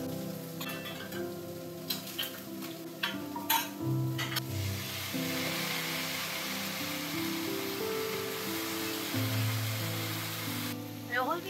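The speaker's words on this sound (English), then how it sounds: "Fry the millets along with the onions so that it will retain its texture while you cook it in the pressure cooker." Millets and onions frying in a pan, with a steady close sizzle and stirring scrapes over a low continuous hum, a few louder clinks early on.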